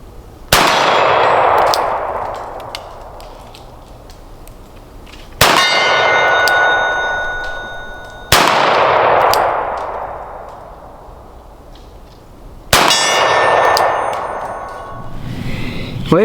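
Four loud single-action shots ring out from a Taurus Model 856 .38 Special revolver outdoors, each a sharp crack with a long echoing tail, spaced a few seconds apart.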